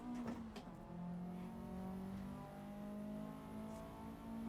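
A turbocharged car engine in the racing game Assetto Corsa EVO hums at steady, fairly quiet revs with a faint whine, holding its tone without a sharp surge.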